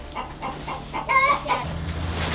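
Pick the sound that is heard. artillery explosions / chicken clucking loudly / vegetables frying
chicken clucking loudly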